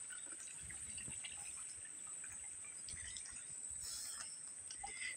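Water overflows from a full irrigation tank at a farm, a faint steady trickling wash with insects chirping softly in the background and no voices.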